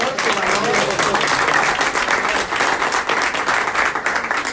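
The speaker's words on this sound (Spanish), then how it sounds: "agradecerles a ellos con un aplauso" Church audience giving a round of applause after an evangelist dialogue, dense and loud continuous clapping that fills the room evenly, with a faint voice mixed in.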